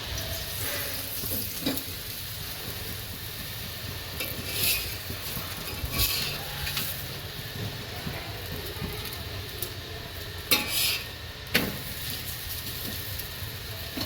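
Fenugreek (methi) paratha frying in oil on a pan gives a steady, moderate sizzle throughout, with a few brief clinks of a utensil against the pan and no talking.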